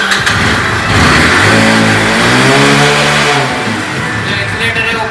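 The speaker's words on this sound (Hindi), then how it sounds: "आइडल में गाड़ी काफ़ी अच्छी रुकी हुई है" A Mahindra Centuro motorcycle engine running on an LPG kit, loud and close, a steady idle that swells into a rev, the pitch sweeping up and easing back down before settling.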